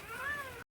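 A single short cat meow, close and moderately loud, rising and falling in pitch, with no voices around it.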